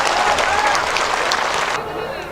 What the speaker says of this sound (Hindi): जोरदार ताली बजा के इनका स्वागत करिए।